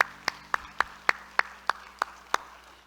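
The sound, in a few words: church congregation clapping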